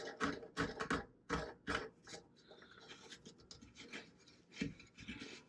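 A plastic nut is turned by hand onto the threaded base of a toilet fill valve, giving close, dry rasping scrapes in short bursts with brief pauses between twists.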